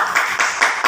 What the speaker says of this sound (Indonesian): tepuk tangan teman kalian